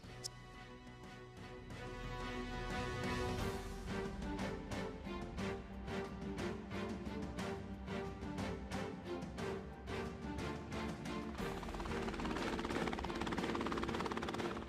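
A training helicopter's rotor chops steadily with a whining engine during hovering exercises, close and continuous, growing slightly louder toward the end; no voices.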